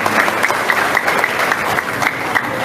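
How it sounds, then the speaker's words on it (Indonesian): An audience at a volunteer rally applauds, a dense and steady burst of clapping from a crowd that stays loud throughout. "Boleh tepuk tangan untuk semua yang mendengar."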